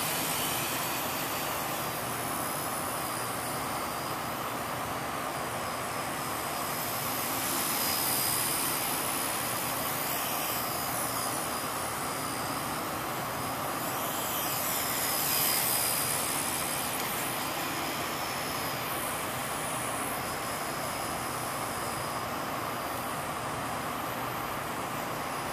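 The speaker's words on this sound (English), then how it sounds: "flying my heli" A Blade Nano CPx RC helicopter flies inside a rec center, a steady high-pitched rotor and motor whine that swells slightly at times as it passes, with no talking.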